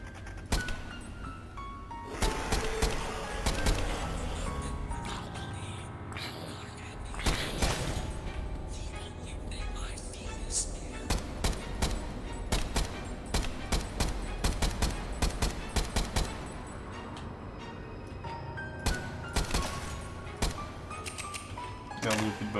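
Video game gunfire, repeated sharp bursts and volleys of shots of varying loudness throughout, mixed with busy game sounds and a voice talking at times.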